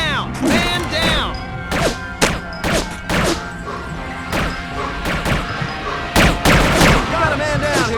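Rapid bursts of gunfire from the military shooter game America's Army during an urban combat qualification, sharp cracks and thuds repeating loudly throughout, mixed with shouted voices.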